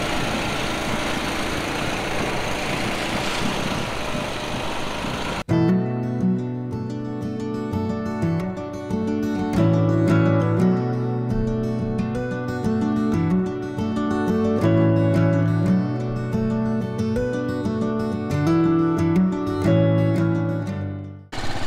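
A tourist boat's engine starts up as it sets off from the ghat at Ayodhya, a loud steady low drone with rhythmic thumping and vibration that continues for the whole stretch after an initial burst of wind noise.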